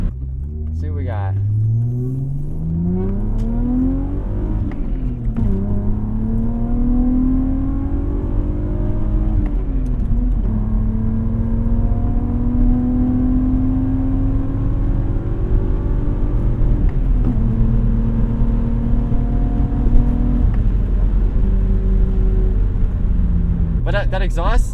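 A BMW E36 328i with a fully custom exhaust revs and climbs through the gears, exhaust droning loudly and steadily throughout, with brief pitch dips at each shift.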